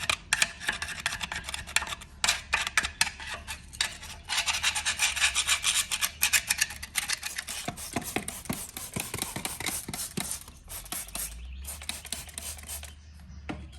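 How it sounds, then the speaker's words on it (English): Steel wool scrubs an engine's mating surface where the rear of the sump seals, giving repeated close, raspy rubbing strokes in uneven bursts with short pauses. "I've got some steel wool, so I'll just give it a bit of a scrub"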